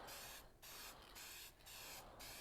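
Aerosol spray paint can hissing in a garage, four close bursts of bright spitting spray separated by brief gaps as the nozzle is pressed repeatedly.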